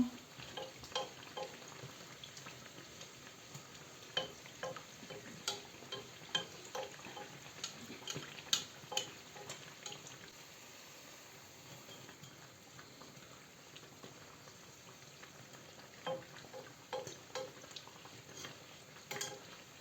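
Chebureki pastries sizzle and crackle steadily in oil in a pan, with irregular pops and occasional soft clinks, fairly close and without any talking.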